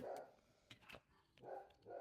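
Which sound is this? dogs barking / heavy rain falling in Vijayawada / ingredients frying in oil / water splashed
dogs barking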